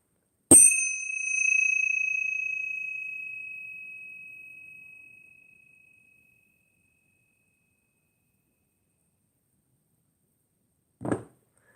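A tuning fork is struck once and rings with a pure, steady tone that slowly fades over several seconds into silence, followed near the end by a brief soft knock.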